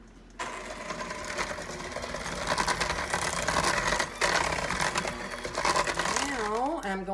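Carrot cake batter being mixed with an electric mixer, a loud continuous whirring motor hum that shifts in pitch as it works.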